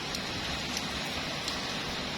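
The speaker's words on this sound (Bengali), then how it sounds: "এখন একটু কম বৃষ্টি হচ্ছে তাও কিন্তু বৃষ্টি পড়ছে" Light rain falling steadily outdoors, a soft, even hiss of drops with a few faint taps standing out, quiet and continuous.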